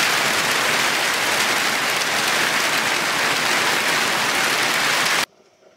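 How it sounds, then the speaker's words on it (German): Heavy rain pours down steadily in a dense, loud, continuous hiss that fills the scene, then cuts off abruptly near the end. "der Regen ist jetzt doch bei uns angekommen"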